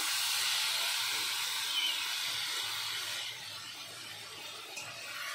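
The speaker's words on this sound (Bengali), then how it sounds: "এই দেখুন, টমেটোটা কি সুন্দর ভাজা হয়ে আসছে আস্তে আস্তে" Tomatoes frying in a pan beside jackfruit, heard as a steady close hiss of sizzling oil that drops a little in level partway through, with no talk.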